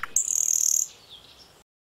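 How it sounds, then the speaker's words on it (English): A bird sings in a forest, a bright, high chirping phrase lasting under a second, fairly close, followed by quieter, softer calls fading out before silence. "Wait a second, that's the bird singing."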